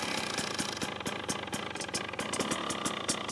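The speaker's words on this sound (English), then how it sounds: "So we'll start the bike up" A 2024 KTM XCW dirt bike engine idling close by, a steady rattly single-cylinder putter with fast, even pulses and a few sharper ticks throughout, with no talking.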